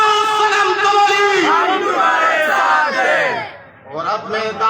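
A political rally crowd chants slogans together in a loud, close, unified roar of voices that swells and then breaks off briefly before resuming.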